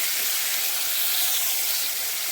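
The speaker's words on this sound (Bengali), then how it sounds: "তেলটা গরম হয়ে গেছে, এখন দিয়ে দেবো এই যে বেগুনগুলো।" Eggplant pieces hitting hot white oil in a kadai, giving a loud, steady, broadband sizzle that holds evenly without pause and with no voices.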